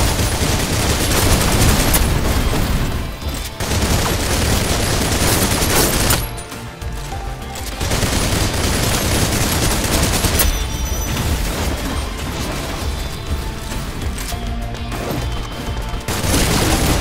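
Video game gunfire from Snowbreak Containment Zone played on PC: dense, loud, continuous bursts of rapid shots and heavy fire, broken only by two short lulls and a brief pause near the end.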